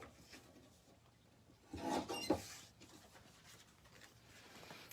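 A blade slides along paper card, trimming a thin sliver off the edge for a handmade card. One quiet, brief scraping rasp stands out in a near-silent room.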